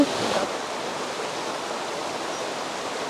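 Steady rushing of a flowing stream, a constant broadband wash of water with no voices.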